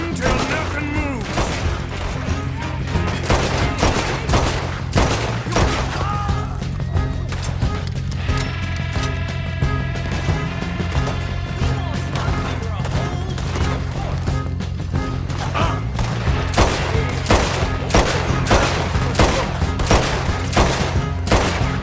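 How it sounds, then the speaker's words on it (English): Repeated gunfire crackles through a Red Dead Redemption 2 shootout during a train robbery, sharp shots coming in rapid, irregular bursts over a sustained low rumble, with occasional speech mixed in. "Just keep shooting till nothing moves."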